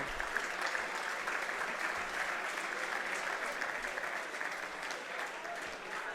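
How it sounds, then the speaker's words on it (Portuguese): Sustained applause from a large audience at a business gala ceremony honouring member companies, steady dense clapping that fills the whole stretch at an even level with no talk over it. "merecem um aplauso"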